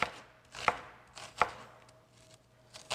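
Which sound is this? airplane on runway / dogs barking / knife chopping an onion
knife chopping an onion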